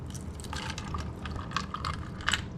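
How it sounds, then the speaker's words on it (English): A cocktail pours and splashes into a double rocks glass of cracked ice, with soft trickling and a few brighter drips and clinks of ice. "Pour the whole thing in there."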